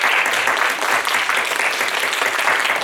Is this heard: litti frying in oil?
no